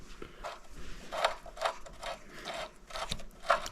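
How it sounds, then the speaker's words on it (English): Pinch bolt on the front axle of a Suzuki Marauder GZ250 motorcycle being tightened with a ratchet, heard as close, rhythmic clicking bursts repeating about twice a second. "And now we're going to do our pinch bolt."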